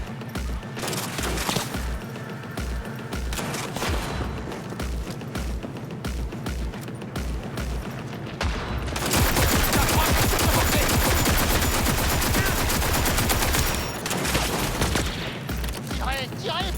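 Dense automatic gunfire rips through a Cyberpunk 2077 gas station attack, with sustained rapid bursts that swell into a loud, continuous volley midway, and shouting voices mixed in.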